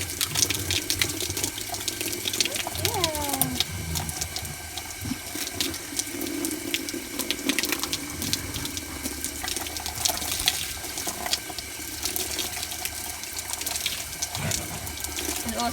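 Water runs steadily from a hose or tap while a horse is washed, a loud continuous splashing rush with brief faint voice-like tones early on.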